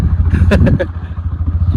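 A TVS Apache 160 motorcycle carries two riders on a mountain road toward Pangong Lake, its engine a steady low drone with wind buffeting close in; a brief clatter rises midway.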